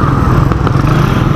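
A motorcycle is ridden on a road near Lipa, Batangas, its mid-pitched engine droning loud and steady with a rattling clatter, no voices over it.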